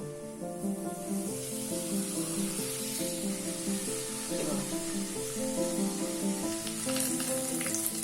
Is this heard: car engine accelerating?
no